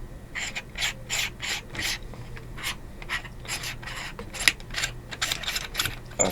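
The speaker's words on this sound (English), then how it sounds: "that's now screwed off from the barrel" A threaded part being unscrewed with pliers from the barrel of an SMK PP700W PCP air gun, making a rapid run of rhythmic rasping, ratchet-like scrapes and clicks, close and fairly quiet.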